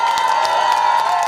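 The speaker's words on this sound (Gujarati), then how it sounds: "એને આપણે તાળીઓથી બધા ઊભા થઈને તાળીઓથી વધાવશું." An audience at a Kutch community gathering stands and applauds, with dense clapping mixed with cheers and shouts in a loud, continuous burst.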